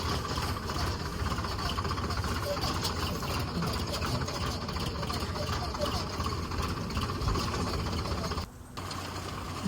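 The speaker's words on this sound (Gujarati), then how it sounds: "તો આપણે ચાલુ કરી દીધું છે ટ્રેક્ટર" A tractor engine pulling a rotavator runs steadily with a continuous low rumble and rattling hum, close by, briefly dipping near the end.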